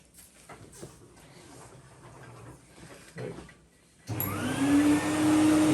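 A Hoover vacuum cleaner, used to catch drilling dust while a ceiling fan is installed in a room, switches on after a few quiet seconds of scattered handling noises and then runs with a loud, steady whine.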